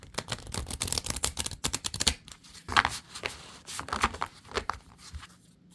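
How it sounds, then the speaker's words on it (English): Tarot cards are shuffled by hand in rapid riffling bursts, crisp close-up flicks and slaps coming in uneven clusters with brief pauses, no talking over them. "I don't know why I'm shuffling a deck."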